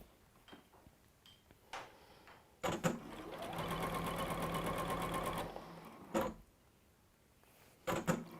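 A sewing machine joins fabric strips in a steady, whirring run of about three seconds, with a few clunks and handling knocks before and after. It sounds close and fairly quiet.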